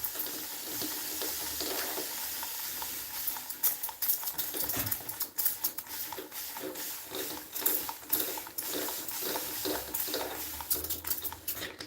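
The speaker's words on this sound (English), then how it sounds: "Bit of beak grinding. That's actually a happy beak grind." A Moluccan cockatoo grinds its beak in a tub, a dense run of dry, rapid ratcheting clicks that pulse on and off for several seconds, close and alone.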